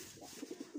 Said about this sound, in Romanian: Suntem la Porumbei.